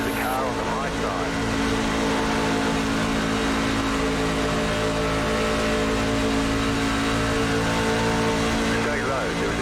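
NASCAR Truck Series engines racing at Michigan International Speedway in the iRacing sim, a loud, steady, close drone of the driven truck's engine that fills the whole stretch, with other trucks blended in and a voice talking over it.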